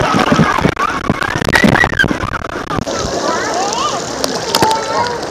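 Water splashes and sloshes as a cheap waterproof box is dunked underwater, loud and close, with churning bursts and bubbling, while people talk over it.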